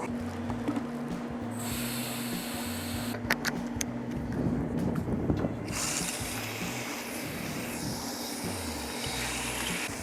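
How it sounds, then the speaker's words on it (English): Cleaning solution is sprayed onto a commercial HVAC condenser coil in bursts of hissing spray, close by, over a steady low mechanical hum with a few clanks in the middle. "I'm coating this condenser coil with a solution that breaks down any dirt, debris, dust, whatever's accumulated over time into this coil."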